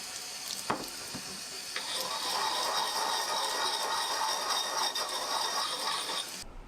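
Tap water runs steadily at a sink during the final stage of restoring an old rusty small axe, a continuous bright hiss with a faint clink near the start, then cutting off abruptly at the end.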